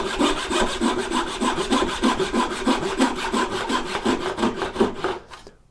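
A hand saw cuts dovetail tails in a wooden board with steady rhythmic back-and-forth strokes, close and clear, ending as the cut finishes.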